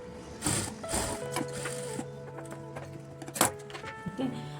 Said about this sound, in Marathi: सरळ शिलाई मारायची।